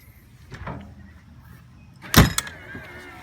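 Entry stairs of a 2007 Suncruiser 35L motorhome retract as the door shuts: a soft motor whir and rustle, then one sharp, loud door slam near the end with a brief rattle afterward.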